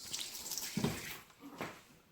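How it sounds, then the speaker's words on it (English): Hands being washed under a running kitchen tap while cooking, with soft splashing and brief bursts of water, faint and close. "And wash my hand."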